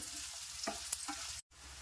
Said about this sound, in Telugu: ఆనియన్స్, వేసుకున్నాక చక్కగా ఆనియన్స్ ఫ్రై అయ్యే విధంగా వేయించుకోవాలండి.